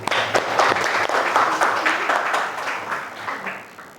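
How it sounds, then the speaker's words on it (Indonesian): A class of students applauding together, a burst of dense clapping that swells early and then tapers off over a few seconds. "Beri aplaus."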